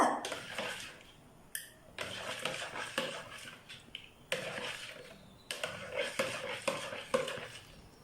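A spoon stirs caramel pudding mixture in a bowl with bursts of scraping and clinking, interrupted by brief pauses, moderately close and fairly quiet.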